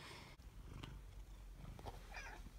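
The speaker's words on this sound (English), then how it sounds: "this is Miss Kitty." A pet cat purrs softly and continuously indoors, a faint steady rumble with a few small clicks and rustles over it.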